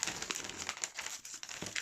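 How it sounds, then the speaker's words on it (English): Crisp crinkling and snipping of thin metallic packaging being cut with scissors, a steady run of close rustles and cuts with no talking. "So you can either rip it up, cut it. I've got some scissors here."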